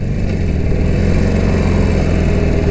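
Harley-Davidson Forty-Eight Sportster V-twin at about 60 mph and roughly 2,800 RPM, a loud steady engine drone with road and wind rush, constant and close, no talking.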